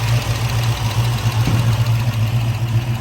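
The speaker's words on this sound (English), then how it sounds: "You can hear the solid lifters." A 1969 Camaro Z28's DZ302 V8 with solid lifters idles steadily, a loud, close, rumbling low drone with a lumpy even pulse and no voices.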